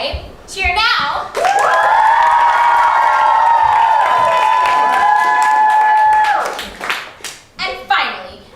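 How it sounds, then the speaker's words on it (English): Studio audience at a camp show cheers loudly, a sustained roar of shouting and clapping with high whoops that swells for several seconds, then breaks off into a few trailing claps and children's voices. "If it's Petal Monroe you wish would stay,"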